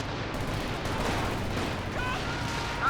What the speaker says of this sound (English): The walking Stuka barrage coming in.